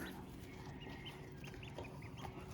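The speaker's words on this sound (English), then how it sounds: "So, we have 12 baby ducks." A brood of twelve baby ducks on a farm peeps in high, thin bursts, scattered over a steady low background hum and rustle, close by, with no talking.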